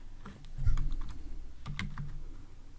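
Quick keystrokes on a computer keyboard while building an app layout, a short burst of fairly close, crisp clicks with a slight pause between two clusters.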